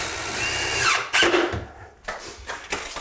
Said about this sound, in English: I'm basically screwing the left side of the mending plate to one panel